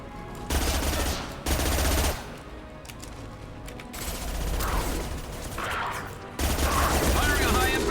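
Weapon fire in the video game Mass Effect 2: several loud, dense bursts of shooting with heavy low thump, separated by quieter mechanical clatter and game ambience.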